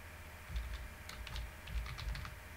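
Quick, uneven keystrokes on a computer keyboard while Python code is typed, a close, steady patter of soft clicks with a few heavier key thumps and no voice.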